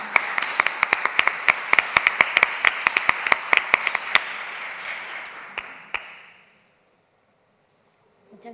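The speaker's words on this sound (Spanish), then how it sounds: "Así que les pido un aplauso ahí a nuestros invitados." Scattered applause for guests at a talk, a dozen or so sharp separate claps from a few people, fairly close, tapering off and then falling silent.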